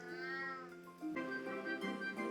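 A pet cat meowing in the video game RuneScape 3: drawn-out, tonal meows repeating close and clear, with no voices.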